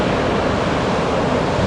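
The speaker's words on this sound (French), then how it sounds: "on voit quand même les vagues" Ocean surf breaking at Anglet on a foggy morning, a dense broadband wash of waves, loud and steady, with no voices.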